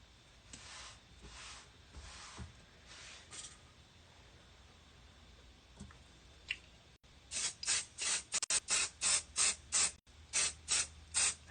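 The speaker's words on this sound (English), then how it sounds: "I'm going to baste it with my basting spray" Quiet rustling and faint handling, then a rapid series of short hissing bursts from an aerosol basting spray on a quilt block, in quick succession, close and fairly loud.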